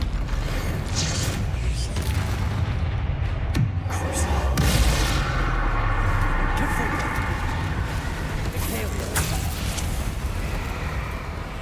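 A Bombarda spell blasting in Hogwarts Legacy, heard as a rumbling boom with creaking, mechanical debris noises among ongoing game ambience, while a voice talks over it.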